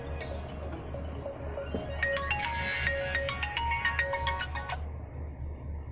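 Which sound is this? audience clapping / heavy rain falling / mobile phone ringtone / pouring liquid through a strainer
mobile phone ringtone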